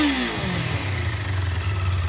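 A 2024 Kawasaki Ninja 500 SE engine drops from a high rev and settles into a steady, throbbing idle, heard up close and loud with no talking over it.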